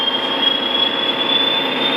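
Märklin gauge 1 V218 model diesel locomotive running, a steady whirring rail rumble with a thin constant high whine, continuous and close without speech.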